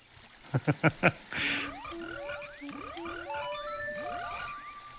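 Frogs croak in a Zelda game, a quick run of four loud croaks followed by a scattered chorus of rising and falling chirps and trills against a quiet background.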